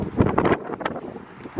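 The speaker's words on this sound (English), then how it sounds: "It's windy out here." Gusty wind blowing outdoors, buffeting the microphone with a rough, close rumble that swells and eases over a couple of seconds, without talk.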